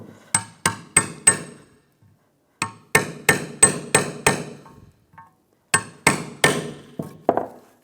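Sharp metallic taps from a socket seating a new valve cover seal on a 1996-2002 Toyota 4Runner, struck in three quick bursts of about four blows each with short pauses between, loud and close.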